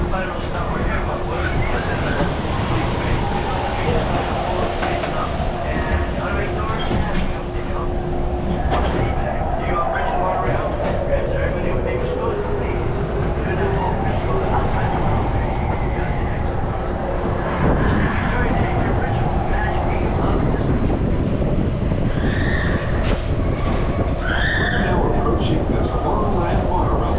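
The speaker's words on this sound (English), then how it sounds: "Please remain seated until the monorail comes to a complete stop." A Disneyland monorail train runs along its track toward the station, a steady rumbling hum with rising and falling whine throughout, under a recorded announcement voice.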